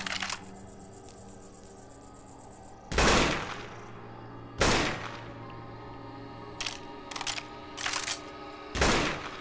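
Players shooting each other in Left 4 Dead 2: a quick rattle of small clicks, then a handful of sharp, loud gunshots spaced a second or two apart, some in short doubled bursts, over a quiet hum.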